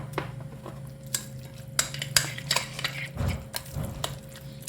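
A spoon stirs a tofu, egg and oyster mushroom mixture in a bowl, knocking the sides with sharp, irregular clinks and scrapes close up, with no speech.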